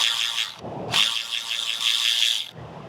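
An 8mm socket on a ratchet works a small nut under the rear bumper of a 2023 Dodge Charger, giving close, steady metallic clicking rattles in two bursts separated by a short pause.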